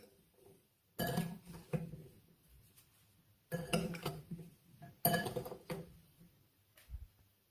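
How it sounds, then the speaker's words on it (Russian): Peach slices and blueberries are stirred in a bowl with sugar, starch and cinnamon for a galette filling: a few separate bursts of clinking and scraping against the bowl, with quiet gaps between them. "Персики нарежу и все ингредиенты соединю вместе."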